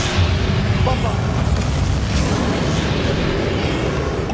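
A Bombarda spell explosion in the Hogwarts Legacy video game, heard as a dense, loud rumbling blast that holds steady throughout, with layered low booming and crackle under a busy battle mix.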